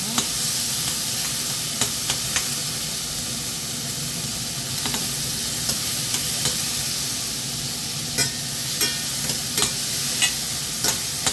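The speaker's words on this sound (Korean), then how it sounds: "양파는 센 불에 빠르게 볶아내는 게 중요하고요" Onions stir-fried with salt over high heat in a pan, giving a steady close sizzle with scraping stir strokes and spatula taps throughout, and no voices.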